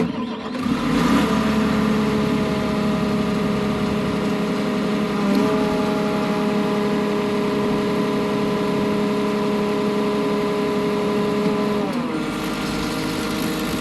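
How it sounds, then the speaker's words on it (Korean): Diesel engine of an SP-500 concrete pump machine catches and runs at a steady idle with a harmonic hum, loud and close, then winds down and cuts off near the end. "방금 들으셨죠? 부르르릉 시동이 걸려야 됩니다."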